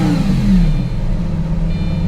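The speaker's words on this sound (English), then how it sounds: "Gallardo sounds amazing, and I feel like you need to hear this." A 2004 Lamborghini Gallardo engine revs loud and close, a deep rising roar that peaks early and then settles into a steady rumbling idle, with no voices.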